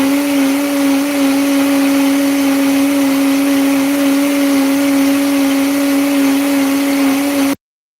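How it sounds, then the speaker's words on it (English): A blender whirs steadily at high speed, blending a Jamaican banana porridge mixture smooth. The motor hum is loud and constant, then cuts off abruptly near the end. "We're gonna blend this up really smooth because that's what you're looking for"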